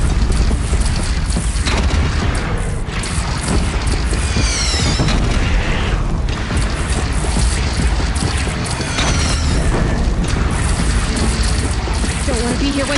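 Cannon fire from a platform in a PS4 video game booms again and again, loud and dense, with crashing impacts layered over a constant roar of battle noise.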